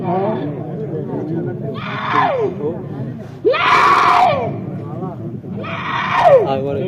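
Several people shouting loudly in a heated group argument, with rising, strained voices in three or four overlapping outbursts under constant crowd talk.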